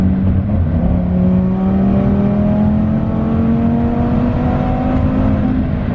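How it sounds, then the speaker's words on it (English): A 500 whp Audi RS3 accelerates hard under launch control, heard from inside, its engine note climbing steadily in pitch as a loud continuous drone with rising harmonics over road rumble. "this car accelerates so brutally"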